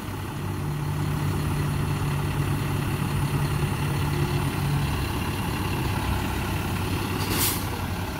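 A school bus engine idles and rumbles steadily nearby with a sustained low drone, and a brief hiss of air brakes comes late, with no talking.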